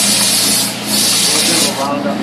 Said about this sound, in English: You don't need to watch me sand this all the way, but you'll see I'm getting a pretty nice edge here.